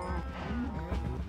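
Cows mooing in the Minecraft video game, a continuous low lowing with a faintly rising tone, moderately close over a busy game soundscape.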